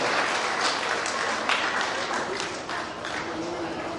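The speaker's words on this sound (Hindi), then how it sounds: "जोरदार तालियों से आप दोनों का सम्मान किया" Enthusiastic applause from an audience at an alumni association gathering fills the hall steadily for several seconds, honouring two guests, with a voice faintly audible beneath the clapping.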